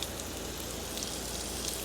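Thin pieces of stingray sizzle in butter in a hot pan, a steady, dense crackle at low level with no pauses.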